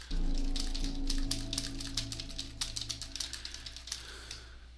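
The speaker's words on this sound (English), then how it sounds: "when I start typing, notice that I have a lot wider" Rapid typing on a computer keyboard, a quick uneven patter of light key clicks over a steady low hum, fairly close and moderately quiet, with no talking.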